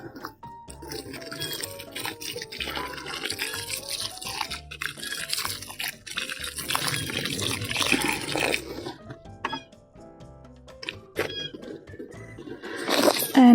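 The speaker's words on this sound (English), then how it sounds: "Add a little bit of water." Water poured into a garden planting hole prepared for a rose, a close, busy splashing and trickling that runs for several seconds, then fades to scattered drips and small clinks.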